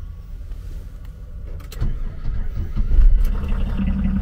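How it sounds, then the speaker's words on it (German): A camper van's engine cranks and catches on the first try in a parking area in Canada, the low rumble building and then settling into a steady, fairly loud idle. "Beim ersten Versuch angesprungen."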